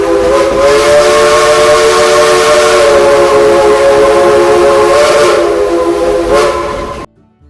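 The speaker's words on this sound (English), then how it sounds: "We'd like to give a couple of train whistles in your honor." A steam train whistle on the Branson railroad blows loud and close: a sustained chord-like tone lasting about seven seconds, swelling briefly twice before it cuts off abruptly.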